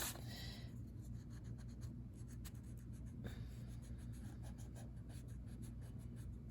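A pencil line is erased on paper in a steady, soft rubbing scratch that continues close and unbroken for several seconds, with no talking.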